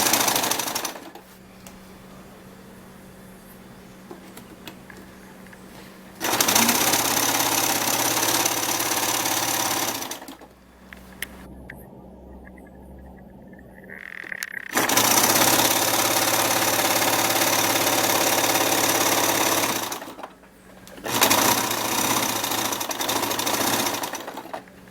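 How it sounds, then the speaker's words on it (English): A sewing machine stitches stretchy fabric for a strapless twisted dress in several steady whirring runs of a few seconds each, with quiet pauses between them and no talk. "you're going to make a stitch and leave probably a 1-inch opening"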